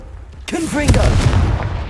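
A sharp, loud fiery explosion from the Confringo blast spell in Hogwarts Legacy, a sudden crack with whistling, sweeping tones, then a rumbling burst that lingers briefly.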